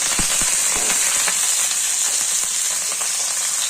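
Chillies fry in hot oil in a pan with a steady, bright hiss and scattered small pops and crackles, loud and close throughout.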